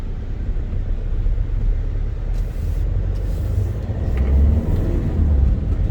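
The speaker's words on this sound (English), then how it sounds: "The car is driving absolutely flawless." A 2011 Hyundai Verna with a 1.6 CRDI diesel engine and six-speed gearbox drives steadily, giving a continuous low rumble of engine and road noise that swells slightly toward the end, with no voices.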